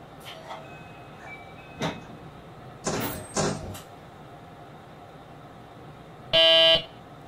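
Train doors sliding shut in the BVE5 train simulator on a JR Shikoku/West Japan Marine Liner rapid service, with a few soft knocks and thuds followed by a short, loud door-closing chime near the end.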